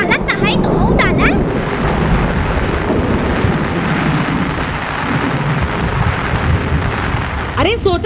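Heavy rain pours down in a dense, continuous roar with rumbling thunder, close and loud throughout, as people call out over the downpour.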